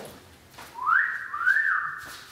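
A person whistles a short phrase of the American national anthem, a clear sustained melodic line rising and falling, close and alone without talk.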